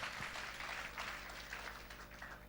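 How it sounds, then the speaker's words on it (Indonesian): Worshippers at a church fasting prayer service clap together in a thick, continuous round of applause, moderately loud with a slight swell and fade, a low room hum underneath. "Berikan tepuk tangan bagi Tuhan"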